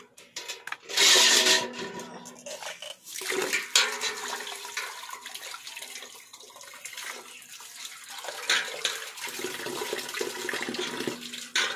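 Water splashes and runs while whole fish are washed by hand in a kitchen. Bursts of gushing and sloshing come and go at close range, and no one talks.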